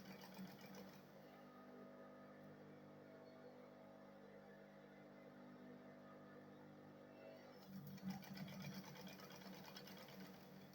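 Sewing machine stitching the inner lining of a bag, a steady close mechanical whir running continuously with a brief change in tone near the end, no talking, quiet overall.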